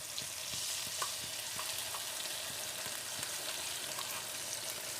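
Ground masala paste fries with softened onions in a pan for chicken kosha, a steady soft sizzle with occasional light clicks of stirring, close and without voices.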